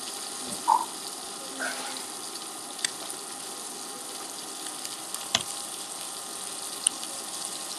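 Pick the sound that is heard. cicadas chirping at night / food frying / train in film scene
food frying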